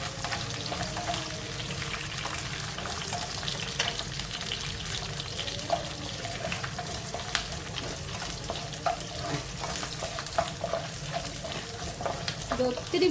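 Garlic sizzles and fries steadily in hot oil in a pan for a Kerala-style shark fish pickle, a continuous close crackle with occasional stirring scrapes and no talk.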